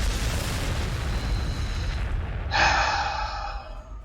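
Frag grenade in a Warhammer 40,000 battle game, a loud rumbling blast over steady noisy game background, followed by a bright ringing burst that slowly fades.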